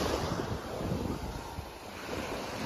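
Surf washes onto a beach at Dauin in the Philippines, a continuous soft roar of waves mixed with gusty wind buffeting the microphone, without any voices.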